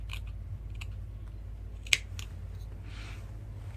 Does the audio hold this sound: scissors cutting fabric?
yes